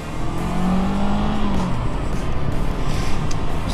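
A Honda CB500X 500cc motorcycle engine drones steadily and loudly throughout while riding, close up, with a low rumbling hum and slight shifts in pitch as it runs.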